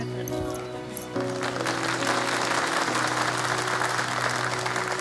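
An audience applauds steadily throughout, a dense wash of clapping that swells slightly after the first second, with faint voices mixed in.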